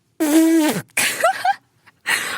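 A person imitates a raspberry burp with the mouth, giving a few short, loud, buzzing bursts with brief gaps between them, and no other talk.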